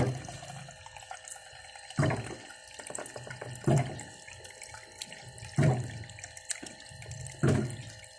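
A faucet runs cold water into a glass, a quiet, steady stream broken by several louder splashing surges as the flow shifts.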